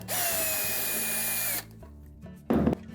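A power drill backing screws out of the plastic console of a Whirlpool washer: a loud, steady whir for about a second and a half that winds down, followed after a pause by a short second burst of the drill.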